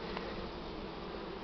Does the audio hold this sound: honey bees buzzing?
yes